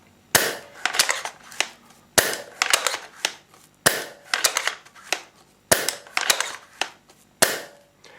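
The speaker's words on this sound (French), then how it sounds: "On entend un clic, c'est que le piston a bien été accroché par les cires." SRS A1 Silverback airsoft sniper rifle is cocked and fired repeatedly: five cycles, each a sharp loud shot followed by a series of clicks and mechanical clacks from the bolt, in a steady rhythm about every 1.7 seconds.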